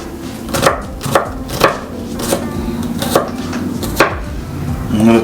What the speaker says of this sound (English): some garlic, chop it up finely just like this